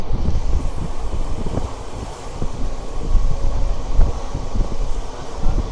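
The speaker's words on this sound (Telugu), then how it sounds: "ఇక్కడ చూడండి మన ట్రైన్ కనిపిస్తే బ్యూటిఫుల్ కరవ్ అయితే కొడుతుంది" The Charlapalli–Tirupati special superfast express train running on the tracks, heard from onboard as a loud continuous rumble with wheel clatter, rhythmic thumps and wind buffeting.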